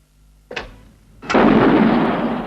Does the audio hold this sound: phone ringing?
no